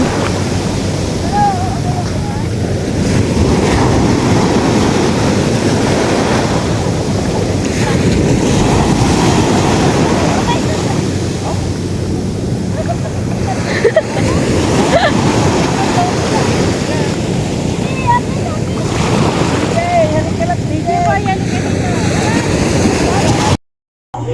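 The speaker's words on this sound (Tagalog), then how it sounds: "Medyo po may alon." Sea waves wash and churn continuously under steady wind noise, a broad rushing roar with occasional splashes, loud and close for the whole stretch.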